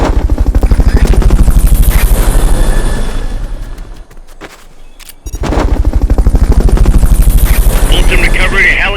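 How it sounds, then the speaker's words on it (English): Helicopter arriving for a Fulton recovery in Metal Gear Solid: Peace Walker, a loud, steady rotor chop with gunfire under it, dipping briefly mid-clip before returning at full strength. "Fulton recovery helicopter is complete."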